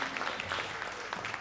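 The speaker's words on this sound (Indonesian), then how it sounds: "beri tepuk tangan kemuliaan Tuhan" Applause from a church camp audience during a worship session, a steady wash of many hands clapping at moderate distance, filling the whole brief moment with no voices standing out.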